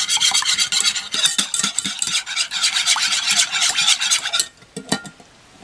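A utensil whisks egg yolks for spaghetti carbonara in a bowl, with rapid scraping clicks in an even rhythm, close and bright, ending in a quieter pause and a couple of final taps.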